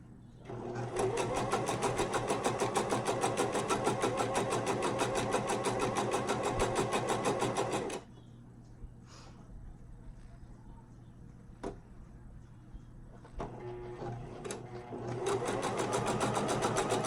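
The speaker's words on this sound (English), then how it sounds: "You just have to let the machine do all the work." A sewing machine stitching wig wefts runs in a loud, steady rapid whirr for several seconds, stops with quiet handling clicks, then starts up again near the end.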